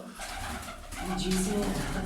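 Pigeons coo close by in a short burst of low, throaty murmuring, with a voice and background noise mixed in.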